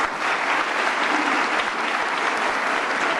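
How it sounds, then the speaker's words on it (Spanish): An audience at an academic forum at a Catholic university in Quito bursts into loud, dense applause that holds steady without pause, close and full. "Así que les pido un fuerte aplauso, por favor."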